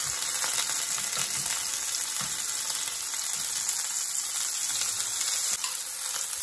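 Chopped tomatoes frying in oil in a pan for a quick egg breakfast, a continuous loud close sizzle with faint stirring scrapes throughout.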